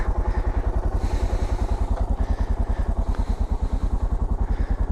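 A BMW motorcycle engine thumps in a fast, even pulse close by, loud and steady like idling or slow riding, with faint clatter and no speech over it.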